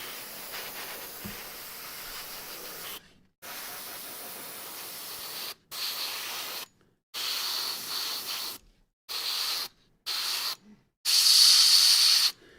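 Airbrush spraying heavy acrylic polyurethane paint onto the deep armor recesses of a large model, a loud steady hiss in a series of bursts of varying length, separated by short silences.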